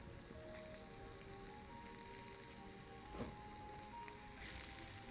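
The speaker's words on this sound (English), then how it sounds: "Let's get some jalapenos in the pan in the corner. Get those cooking." Jalapenos sizzle in a hot pan beside onions on a griddle for smash burgers, a faint steady crackle with a few light pops and clicks, no talking.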